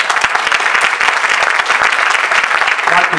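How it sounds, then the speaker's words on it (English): A crowd applauds steadily, dense clapping filling the whole stretch at close range with a few voices mixed in. "I'd like to give her a round of applause."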